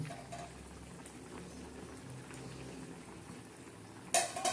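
A thin onion vegetable curry with peanuts and green chillies simmers in a covered pot, giving a soft, steady bubbling hiss with faint clinks and a brief sharp clatter near the end.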